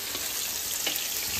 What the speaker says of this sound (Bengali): আর এখানে চলছে বেগুন ভাজা